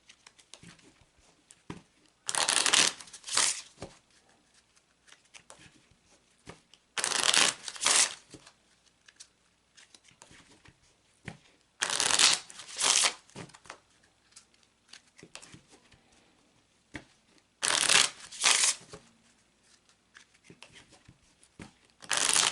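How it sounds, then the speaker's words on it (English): Four bursts of a deck of Gypsy Witch cards being riffle-shuffled, each a quick crisp flutter, separated by quiet pauses; close and fairly loud. "now we're going to shuffle that into the cards"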